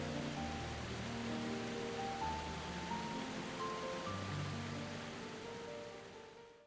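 A waterfall pours through a narrow gorge in Switzerland in a continuous broadband roar, steady and fairly distant, fading out at the end.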